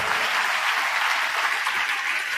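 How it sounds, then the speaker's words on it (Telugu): A church congregation applauding in a dense, continuous wash of many hands clapping at once, loud and steady throughout. "కొట్టు చప్పట్లో"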